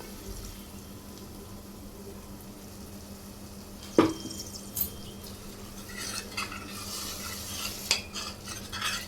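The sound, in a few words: masala frying and stirring in pan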